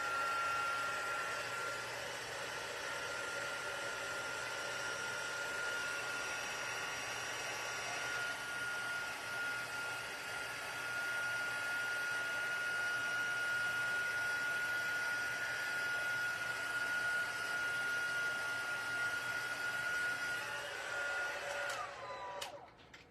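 A heat gun blows a steady, close whooshing hum with a high whine while heat embossing a stamped card, running continuously before cutting off with a click at the end.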